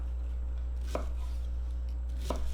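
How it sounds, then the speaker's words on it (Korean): Onion sliced thickly with a knife on a board for kimchi stew, two separate sharp chops about a second apart, close and clear over a steady low hum. "김치찌개에 들어가는 양파는 살짝 도톰하게 썰어 주시는 게 좋아요"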